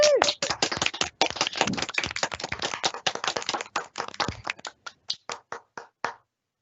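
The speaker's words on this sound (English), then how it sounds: "Can we have a round of applause," Applause for the organiser at a conference closing session comes as distinct, close individual claps from a small group, busy at first, then thinning into slower, isolated claps before stopping.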